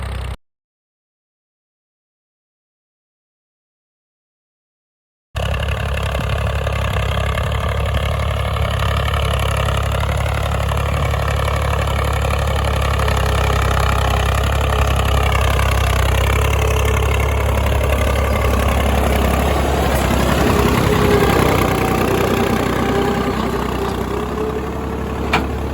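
A tractor engine runs at a bridge construction site in Mirpur, Azad Kashmir, a steady loud low rumble holding after a short silent start with no talk over it.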